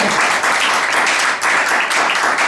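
A church congregation claps and cheers for the Lord at a Sunday service, producing dense, loud applause that carries on steadily, with only a brief dip in the middle.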